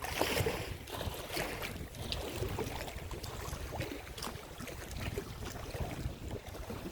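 Steady wind gusting and buffeting the microphone on a rocky lakeshore in Temagami, with a constant rushing roar and faint lapping water underneath; no one speaks.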